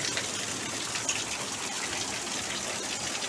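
Steady, dense rushing wash of heavy storm rain pouring down onto a veranda roof, a continuous broadband roar with no pauses and no voices.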